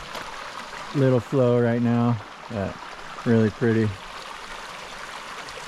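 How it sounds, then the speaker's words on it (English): A small mountain stream, Snow Creek in Yosemite at low flow, trickles and rushes softly as a steady wash of water while someone speaks briefly over it. "stream slowly trickling down"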